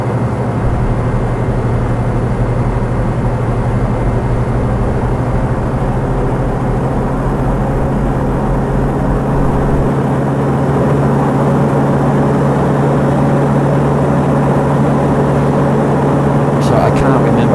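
A Pilatus PC-12 turboprop engine drones loudly and steadily from inside the cabin during takeoff, a constant low hum with a steady tone, while a person talks over it.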